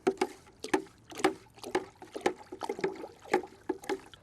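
Thick IMO 2 mixture being stirred in a 5-gallon bucket, giving wet sloshing and scraping strokes in a regular rhythm, about eight pulses, close and fairly loud, with no talking.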